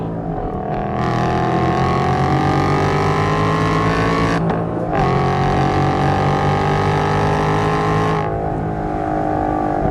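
A 2012 Ford Boss 302 with a 302 V8 and six-speed manual revs hard through the gears, the engine close and loud, with a short break between pulls at a shift.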